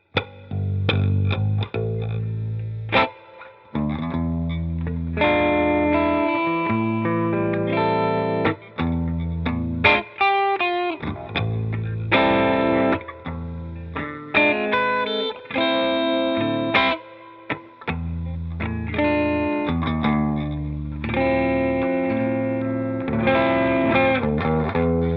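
Electric guitar played through a Bias FX 2 pop preset with light drive, a continuous stream of slightly gritty chords and melodic lines with chorus-like shimmer and some reverb, loud and steady throughout with brief pauses between phrases.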